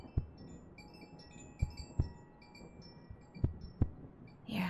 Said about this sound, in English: Your heartbeat